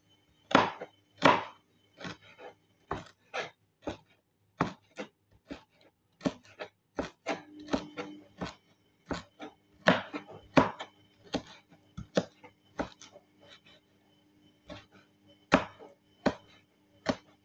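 Knife chopping banana peels on a board, a steady series of crisp, close taps repeating about every half second, some clustered in quick pairs, with no talking.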